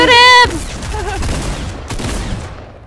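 Rapid bursts of gunfire in the video game Fortnite, clustered broadband shots over about two seconds after a loud sustained tonal game sound at the start, with a voice briefly audible in the mix.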